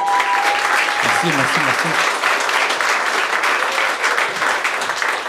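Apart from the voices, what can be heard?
audience applause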